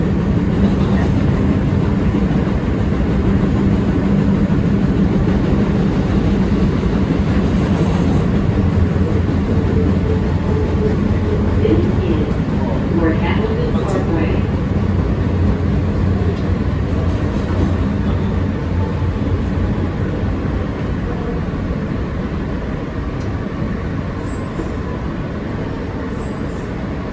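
Inside an MTA New York City Subway R160B Siemens N train riding from Coney Island–Stillwell, a loud continuous rumble of wheels on track with rhythmic clatter and a steady motor drone, faint squeals rising midway.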